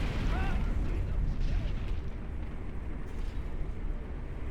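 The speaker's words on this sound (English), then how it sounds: "That's where one nuke hit." A nuke cannon shell explodes in Command & Conquer Generals Evolution, a loud continuous rumbling blast and roar with crackling debris that fades slightly over several seconds, with a voice speaking over it.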